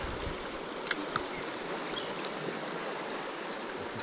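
A river flows in a steady, broadband rush of water, continuous and fairly close, with a couple of faint clicks and no talking.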